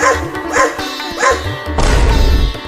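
A cartoon dog barks three times in quick succession, close and loud, then a rougher, noisier burst of sound follows.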